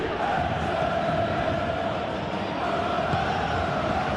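Stadium crowd in the PES football game, a steady, loud roar of many fans holding at an even level throughout, with no distinct cheers or chants standing out.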